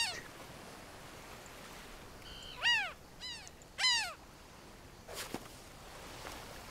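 Bird calls in the wildlife adventure game Alba, a few short harmonic cries in quick pairs over a quiet hissy background, followed by a faint brief rustle.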